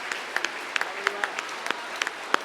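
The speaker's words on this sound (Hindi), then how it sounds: "अपने दोनों हाथों को उठा लीजिए तालियों की गड़गड़ाहट में उस बेटिया के लिए" An audience at a Hindi poetry recital (kavi sammelan) breaks into scattered, uneven clapping, individual claps sharp and distinct rather than a full roar, heard somewhat distant with a faint voice underneath.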